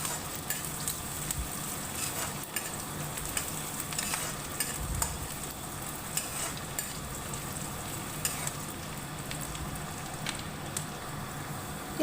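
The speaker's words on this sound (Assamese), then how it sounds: "তেতিয়া পিঁয়াজখিনি ভালকৈ ফ্ৰাই কৰি ল'ব" Onions frying in a pan and stirred until golden brown, a continuous soft sizzle with scattered scrapes and crackles, moderately quiet and close, no talking.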